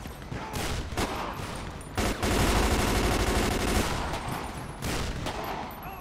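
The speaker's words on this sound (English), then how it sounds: "Yo, I'm hearing the shots." Sustained automatic-rifle gunfire in a GTA 5 police shootout, a dense loud fusillade of overlapping shots with a heavier burst in the middle and short gaps between volleys.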